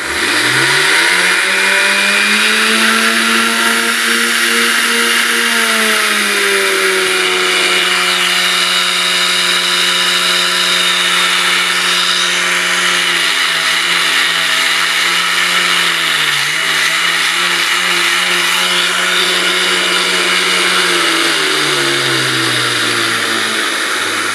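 An old vacuum cleaner motor, repurposed as a rotary grinding tool and running at full speed, whines steadily with a droning, buzzing tone, its pitch dipping slightly now and then; continuous and close.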